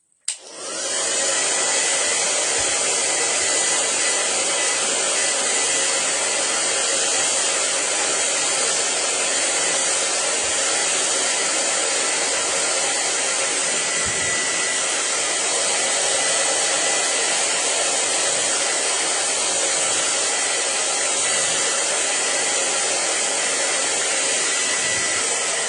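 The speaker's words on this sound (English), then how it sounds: "I got to do one more with the dryer" A hair dryer drying paint on dot art roars close and loud after a sudden start, blowing with a steady, unbroken whoosh for the whole stretch.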